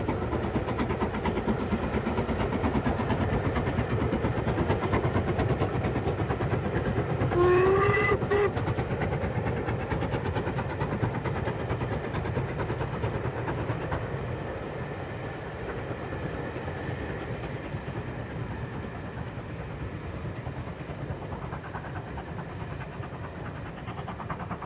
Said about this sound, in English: The return workings from the West Highlands have resulted in steam passenger runs over the Glasgow and South Western Main Line